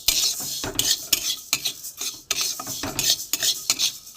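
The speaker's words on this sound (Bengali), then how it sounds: "ডালটা ভাজা হচ্ছে" Mung lentils dry-frying in a pan while a utensil stirs them, producing rapid, repeated close scraping and rattling strokes with no voices.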